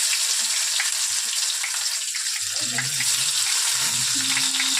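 Ilish fish wrapped in pumpkin leaves fries in hot oil, making a loud, continuous close-up sizzle with spitting crackles and a faint low hum underneath.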